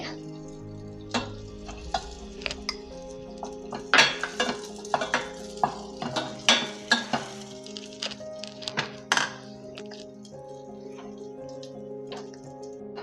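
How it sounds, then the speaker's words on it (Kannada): Almonds, pistachios and raisins fry in a pan for a makhana payasam, with soft sizzling beneath repeated scraping and clinking of a stirring spoon against the metal, close and irregular. "ಮತ್ತು ಬಾದಾಮ್ ಈಗ ಸ್ವಲ್ಪ ಫ್ರೈ ಮಾಡ್ಕೊಳ್ಳೋಣ. ಮತ್ತು ದ್ರಾಕ್ಷಿ"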